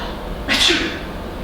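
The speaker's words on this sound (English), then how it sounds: "Let's sneeze 2 times" A child lets out a single short, breathy sneeze close by during a preschool Sunday school class, with faint room noise before and after.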